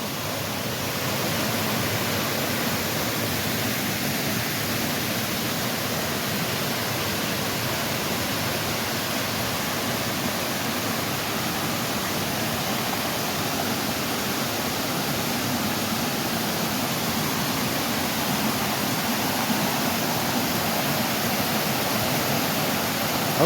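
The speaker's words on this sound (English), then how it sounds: "We got some rapids down this way, going off from the falls." Rapids below a North Georgia waterfall rush in a dense, steady roar of broadband water noise, constant and close with no voices.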